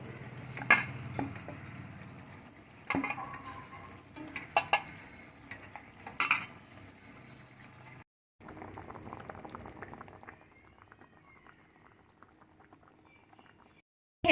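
Fish curry with tamarind bubbling in a pot, quiet simmering with a few clattering spoon and pot knocks early on, then a short gap before softer bubbling resumes.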